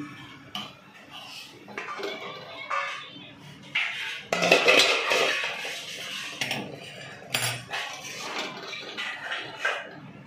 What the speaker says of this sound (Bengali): এবারে আমি ঢাকনাটা খুলে দিচ্ছি